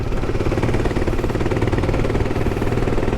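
Royal Enfield Himalayan 450 motorcycle engine labouring in too high a gear on a narrow winding mountain road, a loud close steady thrumming drone with a knocking, vibrating texture throughout.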